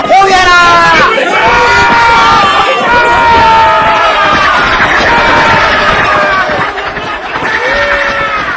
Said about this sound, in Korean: 조조군의 함성소리와 함께 꽃가마를 향해 빗발치듯 화살이 날아오기 시작한다